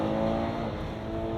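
A 2023 Hyundai Palisade SUV accelerating hard in reverse, a brief, loud engine drone with rising tonal whine, sustained and close.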